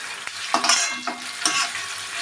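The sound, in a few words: frying jackfruit seeds in a pan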